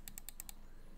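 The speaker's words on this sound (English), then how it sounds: "let me do a click test. Left click, right click, middle click" A Zowie EC2-B Divina gaming mouse gives five quick, crisp button clicks in a rapid row, close up and otherwise quiet.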